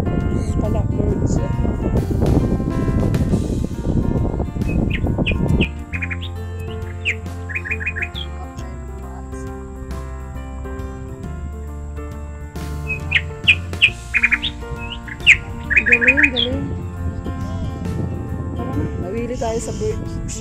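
Birdsong in the open near a bridge: bursts of short, high chirps and tweets arrive in two clusters after a noisy stretch with people talking, fairly close and moderately loud over a steady background hum.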